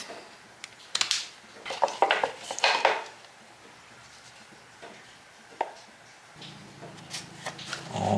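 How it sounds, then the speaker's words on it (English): Mixed epoxy stirred in a small container for a knife handle, giving a run of quick scraping clinks and taps in a quiet workshop, clustered early and again toward the end. "Mix up some epoxy. Stir it up."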